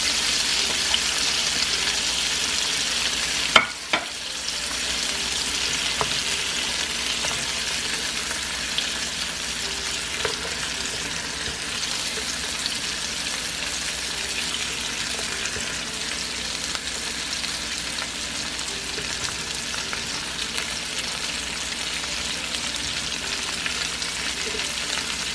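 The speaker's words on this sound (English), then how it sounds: "And now we're going to add our onions." Onions fry in a pan with pork chops, a dense and steady sizzle that holds close and loud throughout, with a single sharp knock early on.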